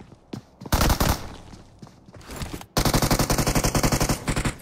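Gunfire in PUBG Mobile: loud, close automatic bursts, a few single shots then a long rapid rattling string near the end, with brief gaps between volleys.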